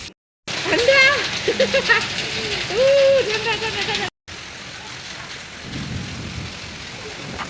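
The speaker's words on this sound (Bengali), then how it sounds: "বৃষ্টি শুরু হওয়ার ঠিক ৩-৪ মিনিট পরে দেখি শিলা পড়া শুরু হয়েছে" Heavy daytime rain mixed with falling hail drums steadily, cut by two brief silent gaps, while a voice rises briefly over the downpour early on before the storm continues alone.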